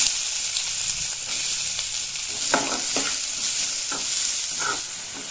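Chopped green chillies and onion sizzle in hot oil in a pan, a loud steady hiss with several soft scraping stirs partway through, close up and without voices.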